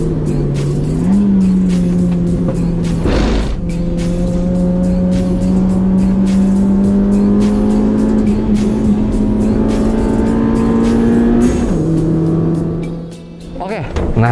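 Race car lapping Sentul circuit in Indonesia, engine note loud and sustained with rising and falling pitch through gear changes, brief shift breaks near three and twelve seconds, close onboard perspective, faint voices underneath.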